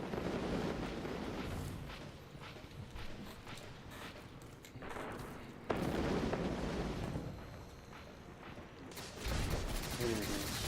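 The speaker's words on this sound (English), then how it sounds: "Single rocket launcher here." Rocket launcher fire in the video game Destiny 2, heavy booming blasts and rumbling explosions layered over continuous game noise, with a sharp loud burst partway through and another near the end.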